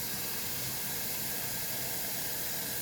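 A constant steamy hiss, like water boiling hard in a pot for blanching asparagus and spinach, steady and close with no voices.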